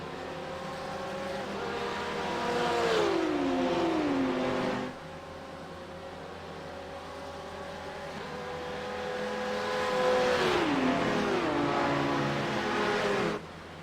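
GT3 race cars at Le Mans, engines droning steadily with rising and falling harmonic pitch as they rev and shift, two passing surges several seconds apart at moderate distance, no talking.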